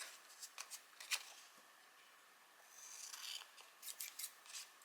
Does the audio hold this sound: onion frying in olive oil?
no